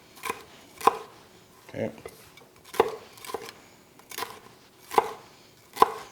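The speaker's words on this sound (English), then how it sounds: "But we're going to rough chop this as well. But you want to do it in strips." A knife rough-chops ingredients into strips for smoked brisket chili on a cutting board: about eight separate, crisp chops at an uneven pace, close and fairly quiet, with a brief spoken word.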